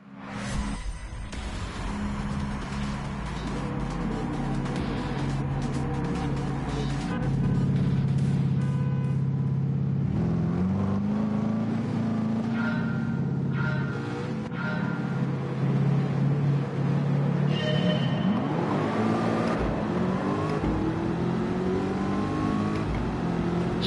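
Race cars launching off the grid at the start of a MARC Car Series race at Blue Moon Infield A Reverse in a racing video game, a dense, loud pack of engines revving and accelerating together, rising pitches sweeping upward continuously.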